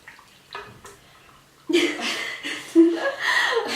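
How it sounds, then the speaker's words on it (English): Hot water is poured into a mug to make tea, a near, steady splashing stream with a brief break partway through, after a few quiet sounds. "And then I put the hot water in here."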